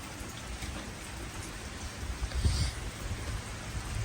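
Steady rain falls with a soft, constant hiss, and a brief louder splash or rumble comes midway. No one speaks.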